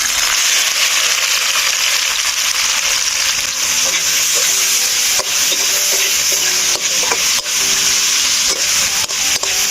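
Onions frying in hot oil in a village kitchen pan for a desi chicken dish, a loud continuous sizzle with scraping stirs and a few sharp clicks, no voices.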